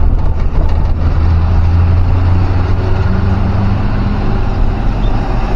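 A truck climbs a ghat road near Chiplun in third gear, its engine a loud, steady low drone heard from the cab throughout.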